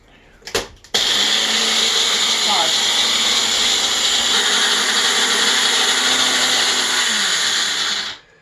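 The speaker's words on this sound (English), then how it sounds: "So I'm just going to take the eggshells and put them in through my magic bullet." A Magic Bullet blender grinds eggshells into powder: after a few brief knocks, a loud, sustained high-pitched whir runs steadily for about seven seconds, then cuts off abruptly.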